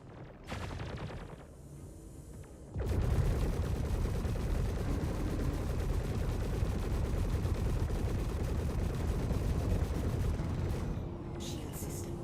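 Spaceship guns fire on strafing runs in Star Citizen: after a quieter opening with a brief burst, a loud, dense, continuous rattle of rapid gunfire with heavy low rumble sustains for about ten seconds.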